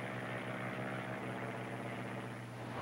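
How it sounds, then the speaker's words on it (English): A game department airplane chasing antelope drones with a steady propeller and engine hum, distant and constant, with no voices. "the department's plane will resume the chase."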